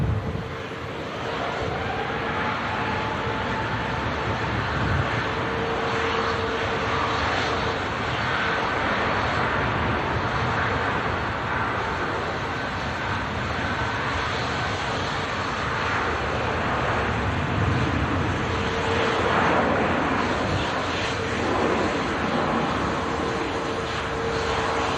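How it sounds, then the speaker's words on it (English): A Virgin Airbus A350-1000 departs Manchester Airport on a windy day, its broad engine roar steady and loud for the whole stretch, with gusty wind buffeting the microphone throughout. "Off goes the Virgin Airbus A350 1000 series, heading off to Orlando, Florida."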